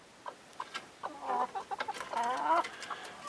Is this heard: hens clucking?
yes